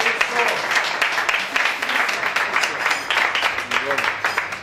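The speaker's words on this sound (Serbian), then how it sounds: "a to je gospodin Isa Suljić, molim vas jedan aplauz za njega" Audience applause at a pigeon breeders' award ceremony honoring top fanciers of an Austrian association, dense steady clapping filling the room at moderate loudness, with voices talking underneath.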